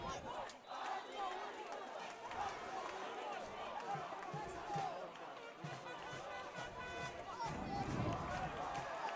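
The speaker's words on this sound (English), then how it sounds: "And this crowd's getting really excited." A high school football crowd at Menlo-Atherton versus Woodside roars in excitement, a dense wash of cheering and chatter that stays loud throughout. A commentator talks over the noise.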